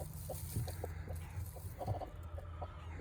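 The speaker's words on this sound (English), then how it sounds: "Got a broody mama here sitting on her golf balls." A broody hen sitting on a clutch of golf balls in a farm coop gives soft, low, repeated clucks in an irregular rhythm, close by, over a steady background hum.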